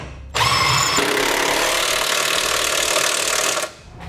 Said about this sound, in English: And now we'll tighten down our factory bolts.